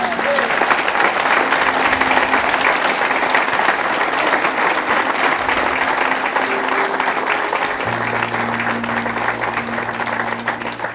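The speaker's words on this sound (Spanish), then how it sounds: "Dale un aplauso al Rey." Sustained applause from a church congregation fills the whole stretch at a steady, loud level, with a low sustained tone from instruments or organ underneath and some voices mixed in.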